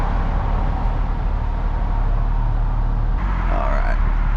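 Porsche Speedster engine while driving, one of 1,948 made: a steady loud drone of engine and road noise from inside the car, holding even throughout with a slight shift near the end, no talk.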